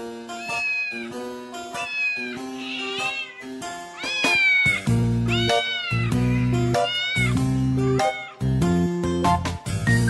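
A cat meows repeatedly and loudly, a run of drawn-out, rising and falling cries close by, with no talking.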